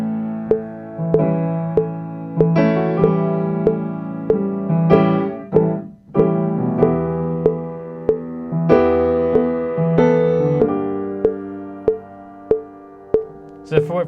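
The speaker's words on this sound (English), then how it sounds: "I'm going to make it a minor 4 with that one right there" A keyboard plays a sequence of sustained chords with bright struck attacks that comes to rest on a minor four chord, heard alone and fairly loud without any voices.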